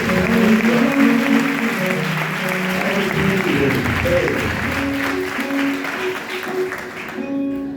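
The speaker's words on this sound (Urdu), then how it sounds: "اور زوردار تالیاں بادشاہ کے لیے" Congregation applause at a Palm Sunday church service, a sustained loud wash of clapping over lingering music or singing, fading near the end.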